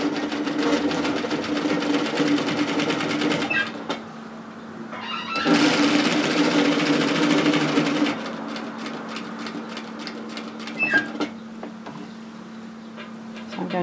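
A sewing machine stitches a woven-fabric cape in steady runs, its fast needle hum pausing briefly between passes and then resuming, close and alone without talk.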